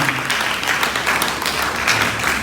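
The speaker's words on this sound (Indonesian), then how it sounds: "Tepuk tangan buat Ji Mahendra yang ulang tahun hari ini" Brief, loud applause from a crowd at a Harley-Davidson riders' club anniversary celebration, dense and continuous throughout.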